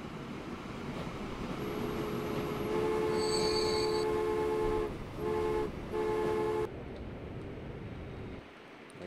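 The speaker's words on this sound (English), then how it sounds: "Got two coal trains coming in." Coal trains roll into a station in the Transport Fever video game, with a steady rumble of wheels and long, tonal squeals of braking wheels that stop and restart before the noise cuts away.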